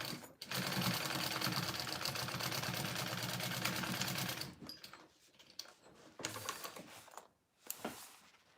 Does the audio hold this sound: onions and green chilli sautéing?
no